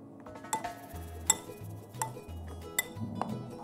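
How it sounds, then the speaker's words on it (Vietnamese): Pork ribs are tossed with seasoning in a bowl, with soft clinks and knocks of a utensil against the dish at irregular intervals, quiet and close. "Mình sẽ trộn đều cho hạt nêm ngấm vào sườn."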